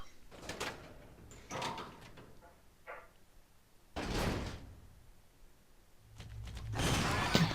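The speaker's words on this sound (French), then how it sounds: "On va prendre cette porte." In the video game Resident Evil 0, a door creaks and thuds open in a few separate bursts, ending in a louder scraping swing, heard close with no talking.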